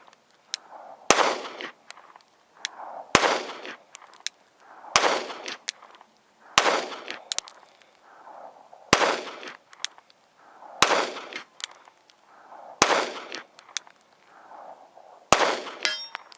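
Repeated pistol shots from a SIG P365XL and Glock G43X at a distant steel target outdoors: about nine sharp, loud reports spaced roughly two seconds apart, each followed by a faint metallic ring of steel and brief echo.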